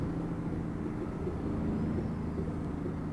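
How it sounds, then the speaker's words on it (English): Steady, loud low-frequency drone from a road train truck's engine in American Truck Simulator, heard with the cab window down while hauling ploughs as the T404st, continuous and unchanging with no talking. "Truck's very loud with the window down."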